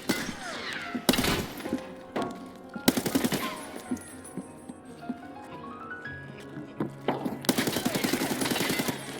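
Bursts of automatic rifle fire and single gunshots crack through a close firefight in the hardcore mode of the video game Escape from Tarkov, with loud volleys separated by short pauses and thuds.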